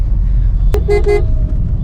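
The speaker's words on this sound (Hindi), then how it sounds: "so this horn is hardly Audible to anyone who is coming on the way" A weak, thin car horn on a Honda City modified as a rally car gives two short toots over a low rumbling road and engine noise.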